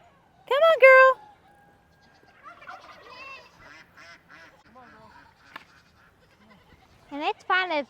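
Goats and other farm animals, donkeys among them, bleat loudly and nearby in several cries, with quieter calls between the bursts.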